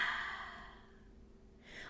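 A single breath out during a beginner yoga pose, a soft airy exhale that fades away, then a faint new breath starting at the end.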